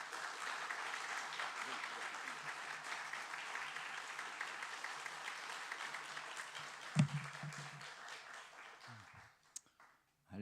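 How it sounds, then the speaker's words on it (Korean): A church congregation gives sustained applause to welcome an elder coming forward to speak, a dense even wash of clapping that carries on for several seconds before tapering off, with a thump and brief voice near the end. "나오실 때 큰 박수로 환영해 주시기 바랍니다"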